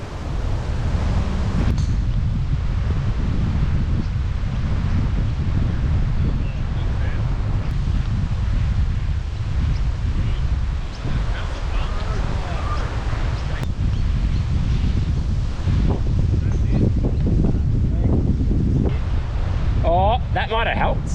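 Wind gusting across a golf course and buffeting the microphone, a steady loud low roar that persists unbroken for the whole stretch.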